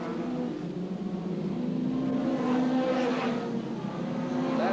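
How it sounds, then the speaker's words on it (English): Hot rod race cars from a 1984 international challenge race on a wet track, their engines droning and revving in a continuous loud roar with no talk. "Barry Lee now upsides of the Davy Evans car, moving in fact into second place"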